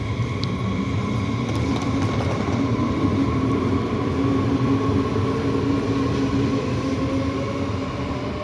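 A steady, loud rumble of a train rolling along the tracks, with a constant low drone and faint mechanical hum, continuous throughout.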